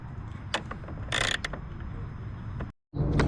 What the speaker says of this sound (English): So remove these two, and you're going to use an 8mm socket.